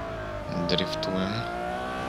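Ferrari 812 Superfast drifting in a racing game, a steady engine hum with a short burst of tire squeal and revving in the middle, moderately loud and without talk.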